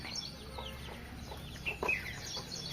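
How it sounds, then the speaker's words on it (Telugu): Chickens cluck softly in a rural yard at dawn, with faint bird chirps scattered over a steady low background hum; a couple of slightly louder clucks stand out near the end, with no talking. "పక్షులు కూడా ఎప్పుడెప్పుడే నిద్రలు ఎత్తాయి"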